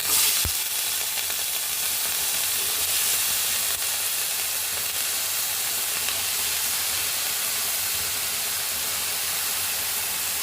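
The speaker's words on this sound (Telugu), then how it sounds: "దీనిలోకి మనం తరిగి ఉంచుకున్నాం కదా వంకాయ ముక్కలు ఈ ముక్కల్ని వేసేసుకుందాం" Eggplant pieces frying in a pan of mustard seed, cumin and sesame tempering give a steady, fairly loud sizzle and hiss that runs unbroken throughout, with a sharp clatter as they go in near the start.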